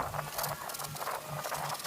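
Steady rain patters down outdoors near a mushroom bed covered with plastic sheeting, a continuous soft spattering that holds at an even level for the whole stretch, with no voices.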